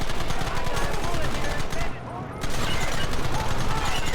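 Dense gunfire from a shootout in the Western video game Red Dead Redemption: rapid overlapping shots and volleys fill the clip loudly, breaking off briefly midway before resuming, with shouting voices mixed in.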